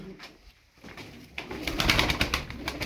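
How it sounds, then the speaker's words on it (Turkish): A flock of Turkish tumbler pigeons coos close by, with soft low murmurs early that swell into louder, overlapping cooing and fluttery calls toward the end. "15 tane kuş var burada"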